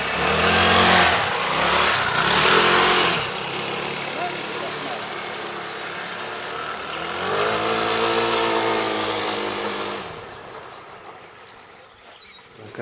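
Custom motorcycle built from a Dnepr, riding with the engine revving up and settling in repeated rising and falling surges, loud and close, then fading toward the end.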